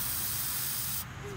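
Silly string sprays from an aerosol can in a strong, close hissing burst that stops abruptly near the end, leaving quieter room noise behind.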